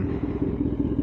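A Kawasaki ZX10R sport bike engine runs close by with a steady, throbbing low rumble and a fast, even pulse of firing beats, loud and alone.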